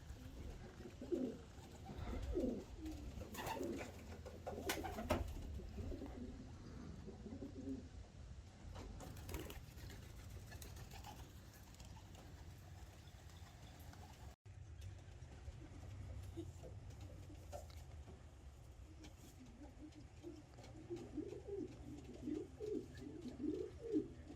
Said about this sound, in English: Young birds flapping everywhere.